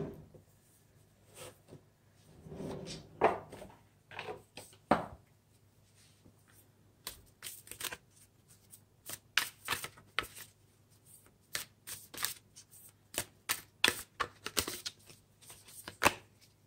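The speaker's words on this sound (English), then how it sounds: "I think I'd like to pull some moon cards for you." Tarot cards are shuffled by hand in a quiet room, a series of sharp riffling flutters and soft slaps coming in irregular bursts, close and clear with no talking.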